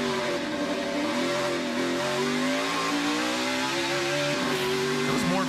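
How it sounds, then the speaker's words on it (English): A NASCAR Xfinity race car pulling away at Daytona during qualifying, its engine lugging with a loud, steady mid-pitched drone that climbs gradually, without wheel spin, heard alone. "No wheel spin, a little bit of lug of the engine."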